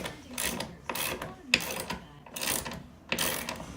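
A wrench working to remove a fixture, with a series of ratcheting, grinding mechanical strokes in an uneven rhythm, close by, and brief faint voice sounds in between.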